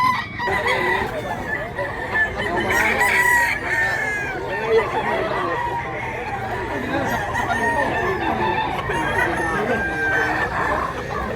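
A rooster crows loudly and close by at early sunrise, its calls repeating over steady clucking from other fowl and a busy farmyard background.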